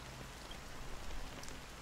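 Steady rain falls throughout a black-rain scene in Honkai: Star Rail, a dense, even hiss of drizzle with scattered raindrop patter and no voices.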